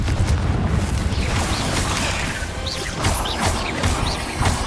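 Repeated crashing booms of Confringo blasting spell explosions in the video game Hogwarts Legacy pound loudly over a thick rumbling backdrop, with bright magical whooshes and impacts recurring every second or so.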